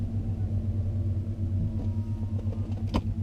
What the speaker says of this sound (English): I'm going to just reverse back into the drive now.